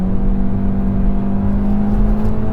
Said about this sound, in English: I don't love the fake shifts, but I will admit that it makes it less drony and annoying sounding than if it didn't have that.